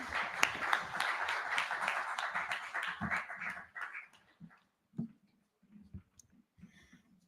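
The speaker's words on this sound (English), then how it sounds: "Can we have a huge round of applause, please?" At a diagnostics awards forum, an audience gives loud, dense applause that fades after about four seconds into scattered claps and a few lingering taps.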